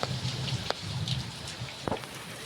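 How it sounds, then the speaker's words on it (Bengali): Steady rain falling outside a home kitchen, a constant patter with a few sharper, louder drips landing close by, and no talk. "ভালোই বৃষ্টি হচ্ছে"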